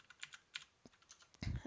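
Quiet, close keystrokes on a computer keyboard, an irregular run of light clicks ending in a heavier thump of keys, with no voices.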